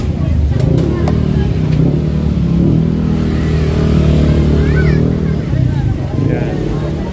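Motor vehicles, probably motorcycles, pass along a busy town street toward the market, their engines rumbling loud and close in a constant drone while someone talks over the traffic.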